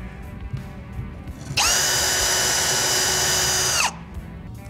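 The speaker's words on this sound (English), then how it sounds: "I like to pilot drill the holes that are found in the studs" A power drill whines steadily at high pitch for about two seconds, pilot drilling into a wooden wall stud, then spins down, with quiet room noise before and after.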